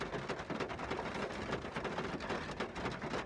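Rain falls steadily and softly, a dense, even patter of drops that stays fairly faint and uninterrupted with no voices.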